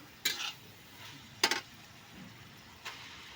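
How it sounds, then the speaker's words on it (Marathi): A utensil scrapes and knocks against a pan in three separate bursts as cooked pasta is added and stirred over a wood-fired stove, with a faint background hum between. "आता ह्याच्यात आपण शिजून घेतलेला पास्ता टाकूया ह्याच्यामध्ये"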